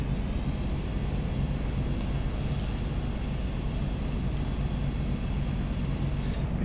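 A2A Bonanza V-tail piston engine in a flight simulator game, running steadily as a continuous low drone with broadband hum, constant in level and no speech over it.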